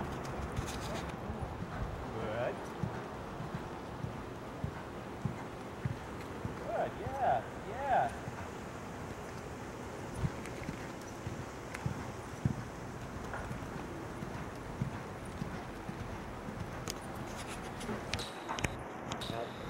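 Horse hooves striding during a jumping lesson, a soft, rhythmic thudding of footfalls over an arena surface, moderately near, with a woman instructing the rider over much of it.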